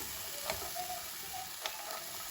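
Vegetables sizzle in a pan while being stirred for chicken croquettes with lumpia wrappers, a steady quiet hiss broken by a few soft scraping clicks of the utensil.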